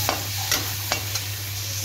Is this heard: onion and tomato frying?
yes